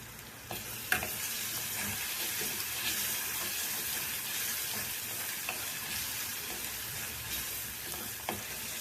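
Whole spices such as cinnamon and cloves fry in hot oil for mutton pepper chukka, giving a steady close sizzle with occasional stirring clinks throughout.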